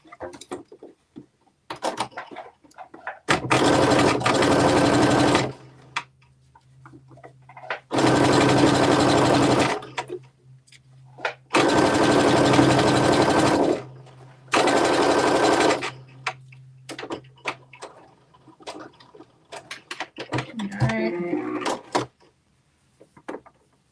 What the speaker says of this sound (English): we're going to make a straight stitch using 5/8 of an inch seam allowance all the way across